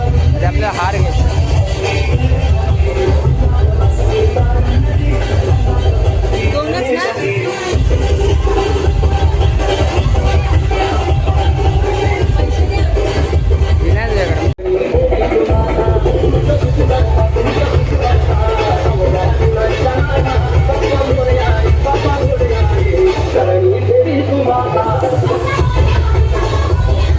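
A dense crowd celebrates Ganpati's arrival in a busy Tala market, a loud continuous hubbub of voices with vehicle rumble underneath, while someone talks over it.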